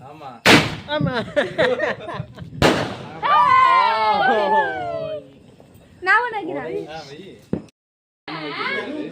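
Two sharp, loud Diwali firecracker bangs go off close by, followed by excited voices talking and shouting, with another crack later on.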